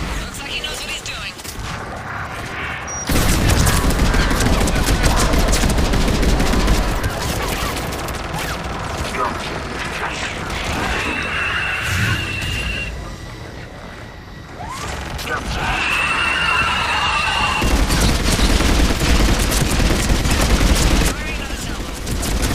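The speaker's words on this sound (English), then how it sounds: "Missiles are hot. Missiles away." Missiles launch and explode in a Mass Effect 3 battle over Thessia, with dense, loud rumbling blasts and crackling bursts that come in waves and drop away in the middle of the stretch.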